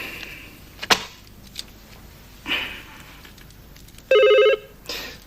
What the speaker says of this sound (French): Monsieur Chablinski au téléphone.